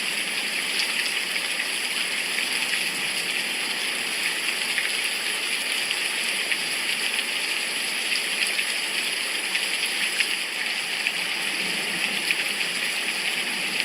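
Steady, continual rain on a very rainy day, a dense unbroken hiss of water falling and dripping that stays even and fairly loud throughout.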